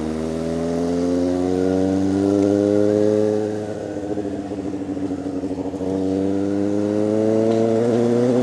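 A motorcycle exhaust roars loud and close, its engine note rising and falling through sustained revs with a rumbling dip in the middle, no talking over it.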